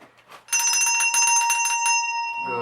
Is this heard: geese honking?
no